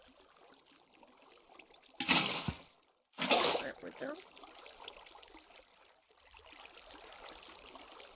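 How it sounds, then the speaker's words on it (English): Water dumped onto dry concrete mix comes in two short, heavy splashing gushes about a second apart, close by, between stretches of quiet outdoor background, with someone speaking briefly. "you can just dump water on it and it turns to concrete"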